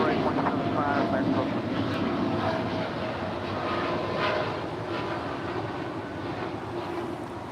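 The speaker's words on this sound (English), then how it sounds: "This is American Airlines 1385 Heavy departing to Miami on a 4-year-old 787-9 Dreamliner." An American Airlines Boeing 787-9 Dreamliner departs LAX, its broad steady jet engine roar sustained and fairly loud throughout, with a slight easing toward the end and wind buffeting the microphone.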